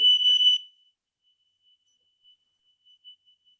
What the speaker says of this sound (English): Alarm has gone off, so Char's going to take care of this